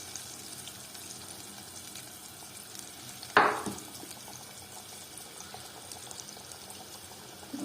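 Liver frying in a pan for Edirne-style tava ciğer, a steady low sizzle throughout with one brief louder splash or clatter partway through, no talking.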